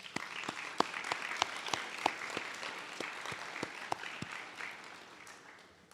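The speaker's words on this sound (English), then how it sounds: "Let's give CAI a round of applause as well." A graduation celebration audience applauds with scattered individual claps standing out, sustained at moderate volume before tapering off toward the end.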